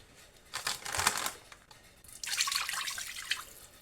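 Water is poured into a pan on the stove to steam a frugal wartime-style Christmas pudding, coming in two splashing, trickling bursts close by with a short pause between them and no talking.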